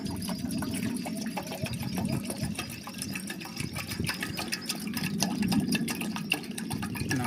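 Water pours steadily into a pot on a village kitchen stove for cooking Maggi noodles, a continuous splashing fill that keeps going for several seconds at close range without any talk.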